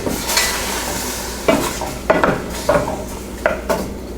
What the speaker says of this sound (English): Now we'll let them saute because they were frozen.